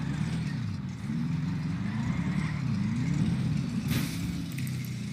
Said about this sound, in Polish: Ale pięknie brzmi ta Audica